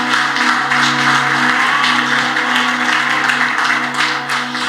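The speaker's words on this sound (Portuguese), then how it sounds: "Você pode aplaudir o Senhor." A church congregation applauds in a Portuguese-language service, a steady wash of many hands clapping together, loud and continuous, with a sustained musical tone underneath.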